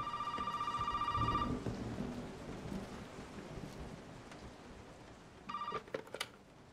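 A telephone rings in Resident Evil 7 on a stormy night, two bursts of bright repeated trilling, the first longer and the second a few seconds later, with steady rain and low thunder rumbling underneath.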